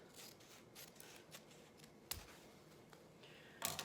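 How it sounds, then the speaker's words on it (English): Scissors snipping craft material for an embroidery hoop wreath, a string of quiet close crisp cuts with a couple of louder snaps near the end, in a quiet room. "I'm gonna start them long and cut it at an angle here like this."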